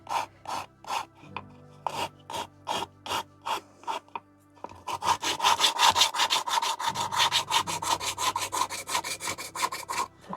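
A small wooden doll house dresser is sanded in quick rhythmic rasping strokes, first in separate bursts and then in a faster, louder continuous run of back-and-forth scrubbing, close up with no voices.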